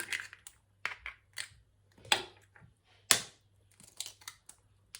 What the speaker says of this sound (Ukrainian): одразу вбиваємо три яйця